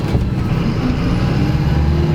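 A heavy truck drives across a muddy field with its wheels spinning for grip. A loud, steady, low engine rumble runs without a break, and no one speaks.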